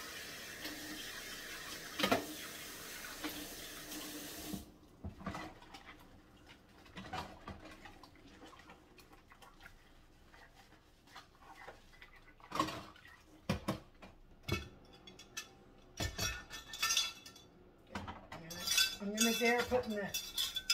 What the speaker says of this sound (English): I'm gonna wash this again because I just poured dirty crap all over it.